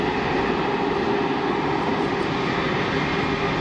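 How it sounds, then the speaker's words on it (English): Steady, loud engine roar from a Swiss-built Pilatus PC-24 business jet on the runway at Geneva Airport, a constant broadband drone with no voices over it. "Pilatus PC-24, designed and built here in Switzerland"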